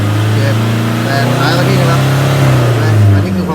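A Toyota Vigo Champ pickup's engine idles loudly up close and then climbs in revs near the end, with a person talking over it.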